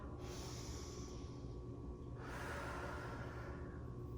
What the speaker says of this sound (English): And more big breath.